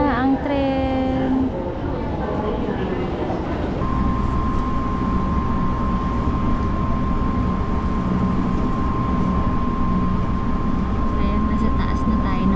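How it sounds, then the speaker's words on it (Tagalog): A train in Nara, Japan rumbles along with a loud, steady roar and a sustained tonal whine, while people talk over it. "Yan na ang tren."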